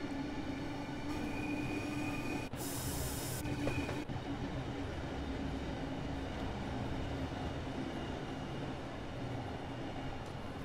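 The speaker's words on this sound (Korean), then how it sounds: "KTX 이음 열차를 끌고 가고 있습니다" Class 395 train hauling a KTX-Eum trainset in the Train Sim World 4 game, a steady loud rolling rumble of wheels and running gear with a brief high hiss burst partway through, continuous and without talk.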